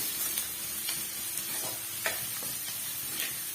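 Onions sautéing with salt in a pan make a continuous frying sizzle broken by light scraping stirs and small crackles at a regular pace, close and alone without speech.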